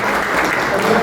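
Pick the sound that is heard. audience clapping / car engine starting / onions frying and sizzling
audience clapping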